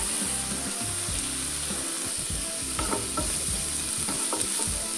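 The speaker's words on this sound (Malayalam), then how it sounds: "തേങ്ങയും ചേർത്ത് നന്നായി വഴറ്റിയെടുക്കാം." Tomato and coconut sauté in a pan for chutney, a steady close sizzle broken by repeated scraping, stirring strokes of a spoon against the pan.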